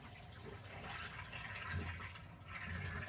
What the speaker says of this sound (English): So now we can get some water in here, some fresh clean water